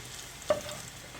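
Garlic dropped into about two spoons of hot oil for chicken tikka pizza topping, one brief close splash of sizzle followed by a soft steady frying hiss with some stirring.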